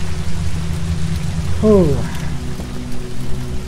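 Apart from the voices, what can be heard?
rain falling in Infernium video game castle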